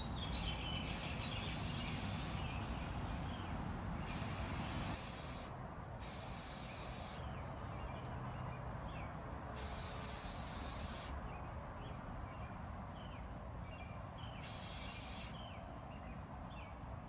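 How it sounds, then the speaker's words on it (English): Five short bursts of aerosol spray hissing close by, separated by brief pauses, over a steady low background rumble. "I'm just going to give it a quick spray here."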